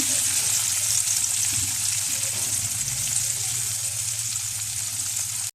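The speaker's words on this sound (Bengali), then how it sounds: "এখন আমি মাছগুলোকে ছেড়ে দিব" Prawns frying in a pan for a prawn and pumpkin curry give off a loud, steady, close-up hiss with a low rumble beneath it, which runs unbroken until it cuts off at the end.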